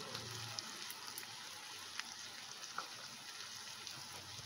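Chicken frying in a pan with red chilli sauce and tomato sauce for Indo-Chinese dragon chicken, giving a steady soft sizzle with faint scattered taps of stirring, close and quiet.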